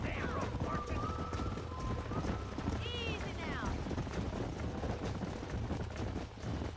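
A horse's hooves gallop in Red Dead Redemption, a steady clip-clop rhythm at moderate distance under low game ambience, with brief whinny-like calls in the middle.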